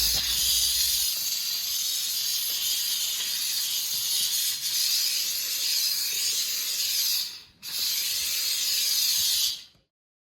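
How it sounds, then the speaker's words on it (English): A Phueut steam cleaner hissing steadily, a loud continuous spray of steam that briefly cuts out, resumes, then stops near the end. "I like this steam cleaner."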